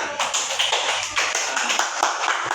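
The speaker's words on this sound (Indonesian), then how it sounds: "tepuk tangan buat temannya" Students in a university microteaching classroom clap for a classmate, a short burst of quick, close handclaps with a brief flurry of taps, and no voices over it.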